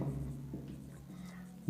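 Marker or chalk writing on a board during a chemistry lesson on coordination compounds, a short continuous scratching stroke with a brief tap at the end.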